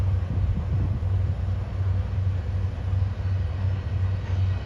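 A train rolls through Bound Brook, New Jersey, on a rainy day, heard as a steady, loud low rumble with a droning hum that holds evenly throughout, with no voices.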